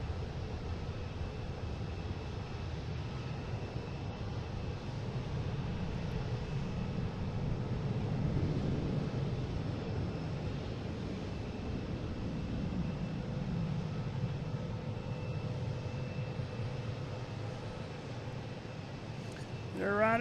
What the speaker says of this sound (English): Coming in from Dublin, A330-300, flight 137.